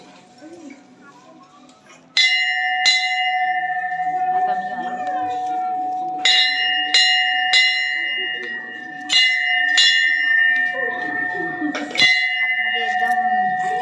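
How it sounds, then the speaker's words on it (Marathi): Bells ring at a Shiva cave temple where visitors queue, ringing out loud and sustained in several repeated strikes, with someone speaking over them. "घंटी वाजवा."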